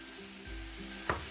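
Spring roll filling with coriander sizzling in a pan while being stirred, a steady close frying hiss with a brief scrape of the utensil near the end.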